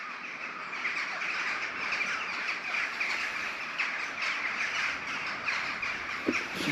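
Many crows caw in dark woods at night, a dense, continuous chorus of harsh calls, some nearer and some farther off, with no talking.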